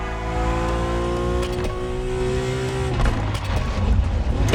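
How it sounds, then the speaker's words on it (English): A BMW Z4 M40i roadster's engine in The Crew Motorfest, a steady loud drone climbing in pitch as it revs, then dropping and roughening near the end, with no talking. "We have prepared a classic for you from a very famous German brand, the BMW Z4 M40i."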